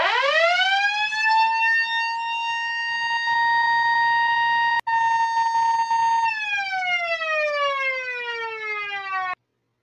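A Federal Electric Model A siren winds up and wails steadily at full volume for several seconds, then its pitch sags slightly as the rotor slows before it cuts off, with no voices.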